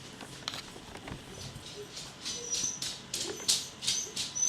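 A dog named Frank whimpers softly in a quiet room, giving a run of faint, high, thin whines that grow a little stronger toward the end, with no talk over them.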